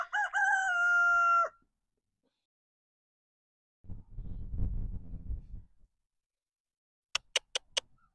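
Rooster crowing on a farm, one loud drawn-out crow at the start, followed after a pause by a brief rustling patch and then several sharp clicking taps near the end.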